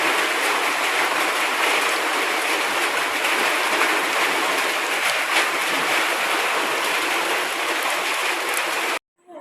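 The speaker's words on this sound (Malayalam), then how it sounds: "ഇന്നലത്തെയൊക്കെ കഴിഞ്ഞ് തോട്ടിൽ നല്ല വെള്ളം വന്ന് നല്ല കലങ്ങി വെള്ളം വരുന്നതാണ്" Swollen muddy stream after heavy rain, rushing water pouring in a steady, loud broadband wash that holds constant for about nine seconds before cutting off abruptly.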